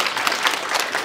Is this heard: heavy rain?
no